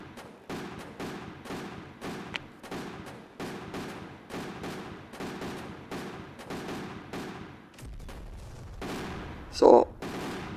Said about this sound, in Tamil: என்னங்க பட்டாசு என்னென்னமோ வெடிக்குது.